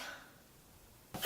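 A single sharp sneeze bursts out near the end after a quiet stretch with a faint intake of breath, close and loud against near silence.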